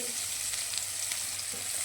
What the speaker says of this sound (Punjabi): ਕਰੇਲੇ ਭੁੰਨੇ ਗਏ ਨੇ ਬਰਾਊਨ ਕਲਰ ਇਹਨਾਂ ਤੇ ਆ ਗਿਆ